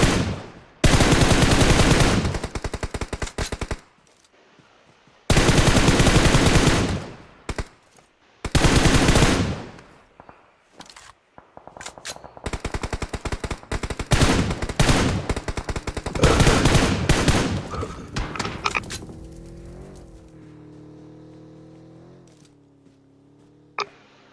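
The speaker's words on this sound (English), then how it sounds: "Shots flying through." Bursts of automatic gunfire in PUBG Mobile during an esports community match, long loud rattling volleys separated by short pauses, with scattered single shots and quieter mechanical ticks trailing off at the end.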